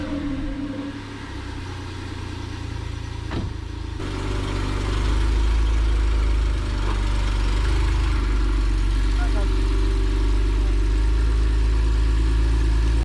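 A Porsche 997 GTS engine idles close by with a deep, steady rumble that grows fuller and louder after a few seconds, then holds constant.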